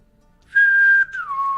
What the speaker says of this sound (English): There's like two things you should never do into a microphone, and one of them is whistle.